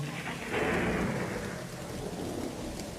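Steady rain pours down outdoors, a dense hiss of drops hitting the surfaces around while people sit out in it, with a low rumble swelling briefly near the start and no talking.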